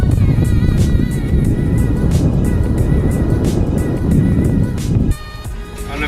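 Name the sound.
car driving on a dirt road, test drive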